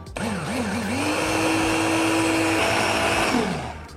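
A food chopper grinding pistachios into pistachio butter runs with a steady, loud motor whine after a wavering start, then spins down at the end.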